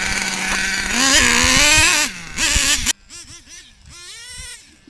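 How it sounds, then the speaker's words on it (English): Nitro RC car engine firing up from a pull start, a buzzy high-pitched rasp that revs and wavers for a few seconds, drops out, then catches again and idles unevenly, loud and close. "Listen here, where I first fire up the engine."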